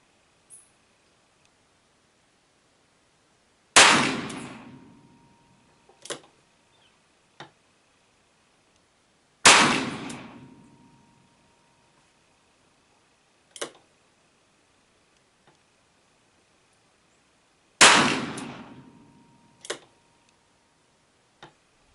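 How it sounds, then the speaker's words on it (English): Speer hollow base .38 wadcutters fired from a revolver clamped in a Ransom rest: three sharp gunshots spaced several seconds apart, each with a decaying boom, plus small clicks from handling between shots. "I'll shoot 10 more, this time the Spear hollow base wad cutters"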